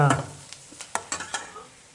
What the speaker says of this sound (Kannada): ಈಗ ಸ್ವಲ್ಪ ಉಳ್ಳಾಗಡ್ಡಿ ಫ್ರೈ ಆಗ್ಯಾವ